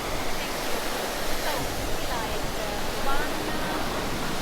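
Rough sea waves at a beach in Mirissa, Sri Lanka, make a steady broadband wash with no distinct breaks. The surf sounds continuous and moderately loud.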